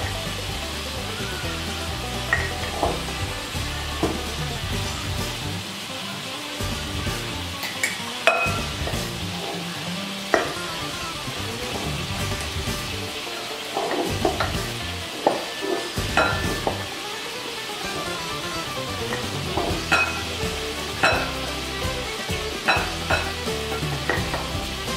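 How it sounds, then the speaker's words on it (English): Milk stirred slowly in a saucepan while it scalds, with continuous soft scraping and occasional utensil taps against the pan over a low simmering hiss, no talk. "Slowly stir milk until it reaches 82 degrees."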